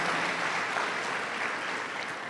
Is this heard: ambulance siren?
no